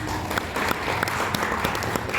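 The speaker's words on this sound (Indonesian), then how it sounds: "Sekali tepuk tangan buat SMSI" Audience at the SMSI Tangerang Selatan board inauguration breaks into applause, a dense, steady wash of many hands clapping at even loudness throughout, with no voice over it.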